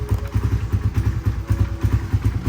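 Motorcycle engine warming up at idle, a steady low chugging pulse with a loose clattering knock, close and continuous throughout.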